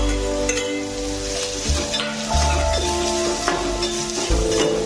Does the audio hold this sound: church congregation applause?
no